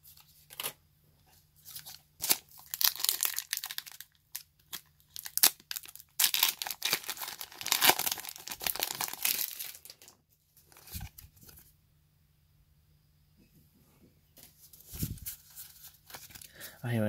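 Pokemon booster packs being torn open, foil wrappers crinkling and ripping in short bursts separated by quiet gaps, close to the microphone.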